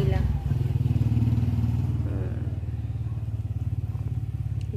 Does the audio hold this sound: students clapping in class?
no